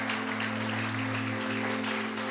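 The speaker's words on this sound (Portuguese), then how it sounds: "Vamos aplaudir mais uma vez o Senhor." A church congregation claps together in praise, a continuous dense patter of many hands over a steady low electrical hum, moderately loud and unbroken.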